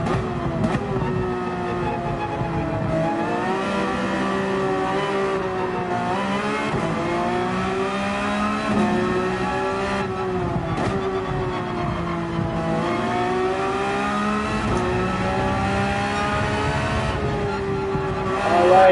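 A Porsche 911 GT3 is raced around Mount Panorama in Gran Turismo 7, its engine note continuously rising and falling through gear changes and revs, loud and steady with no talk.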